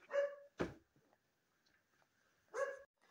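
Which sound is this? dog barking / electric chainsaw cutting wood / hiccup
dog barking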